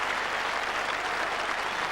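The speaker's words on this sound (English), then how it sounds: "applause from the crowd" A cricket crowd at Trent Bridge applauds a century in the 1989 England v Australia Test match, with a steady, dense wash of clapping throughout and no pauses.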